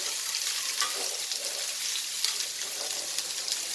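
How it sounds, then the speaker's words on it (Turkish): Köfte meatballs fry in a pan, giving a steady close sizzle and crackle with small pops throughout as the patties are turned. "köftelerimizi bakın çevire çevire kızartıyorum"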